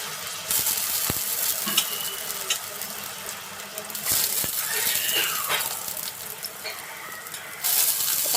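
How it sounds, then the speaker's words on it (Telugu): Brinjal pieces dropped into a pan of softened tomatoes for a curry, giving a steady sizzle with brief stirring clatter and a few louder bursts throughout, no talk. "ఇప్పుడు వంకాయలు వేసుకుందాం"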